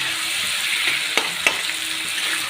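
Ghugni, a potato and pea curry with softened tomatoes and chilli, sizzles steadily in a pan while a spoon stirs it, with two sharp scrapes standing out midway over the even frying hiss.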